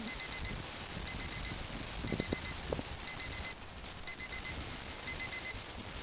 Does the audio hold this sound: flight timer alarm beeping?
yes